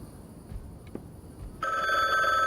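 A telephone rings in The Bookwalker video game, a steady electronic ring starting partway through after quiet ambience and continuing loud and sustained to the end.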